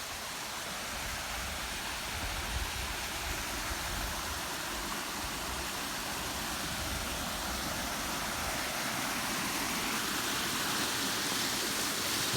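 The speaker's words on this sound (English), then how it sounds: "Come on, I'll bring you around and give you a little look at this waterfall." A waterfall fed by an overflow spill in Queen's Park, Blackburn, gives a constant broad rushing roar that holds steady and fairly close throughout, with no talking over it.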